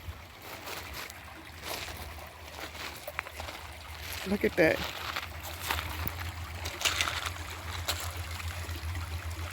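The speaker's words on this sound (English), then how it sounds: "The water is flowing so peacefully." River water flows steadily in a park setting, a soft continuous rush and trickle heard close by, with a person speaking briefly over it partway through.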